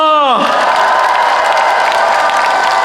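A large crowd applauds and cheers at an outdoor political campaign rally in Busan, a steady, dense wash of clapping that follows a brief falling tone and carries on loud for the rest of the moment.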